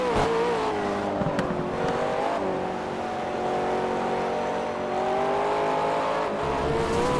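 A McLaren 12C GT3 race car in the racing game Project Cars, a loud, continuous engine roar that rises and falls through shifts as the car accelerates, with a touch of tyre squeal.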